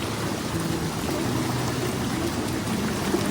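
Stream water rushing under pressure on a monsoon trek near Mumbai, a dense, steady, loud broadband rush with no pauses.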